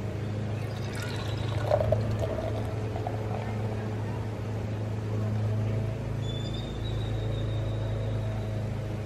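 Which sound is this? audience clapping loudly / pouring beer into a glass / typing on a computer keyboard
pouring beer into a glass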